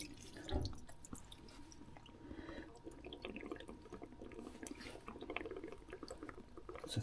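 Water siphoning back out of a boat's fresh water system during winterising, a faint, steady trickling and dripping flow with a few small splashes, close by and with no talk.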